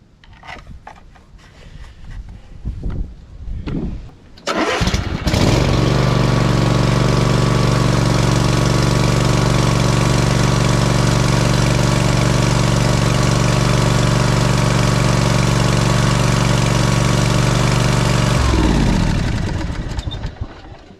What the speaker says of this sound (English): I'm going to start the engine and then check it again after we fill the oil filter.